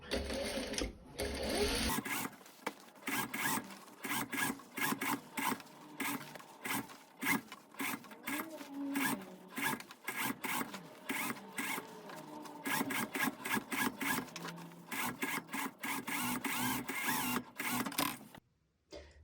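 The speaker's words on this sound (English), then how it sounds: "we'll just sew all the way around" Sewing machine topstitching all the way around a neck facing on a garment, a steady run of rapid mechanical stitching bursts with brief pauses between them, close and clear, with no talking.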